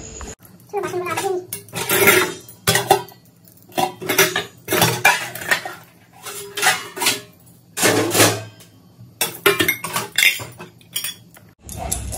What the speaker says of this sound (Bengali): চলো ঝটপটে বাসনগুলো মেজে নিই